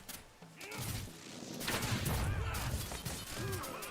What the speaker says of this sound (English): The vault we shoot at.